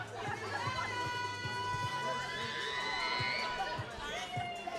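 Crowd chatter with scattered cheers and shouts at a white collar boxing fight night, a steady lively babble filling the room with a few sharp thumps and a high whistle-like tone running through it.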